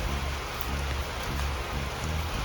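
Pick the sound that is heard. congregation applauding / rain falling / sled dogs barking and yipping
rain falling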